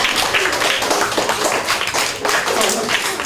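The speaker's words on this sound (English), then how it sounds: "Who are you clapping?" Children in a classroom clapping together, a loud, continuous burst of many hands close by with uneven rhythm, lasting the whole moment.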